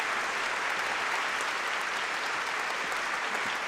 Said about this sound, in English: I'm going to give you a little round of applause here.